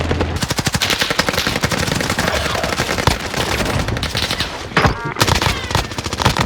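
An Oden AR rifle fires in Call of Duty Warzone. Loud, rapid automatic bursts crackle close by in long strings, broken by brief pauses before the firing resumes.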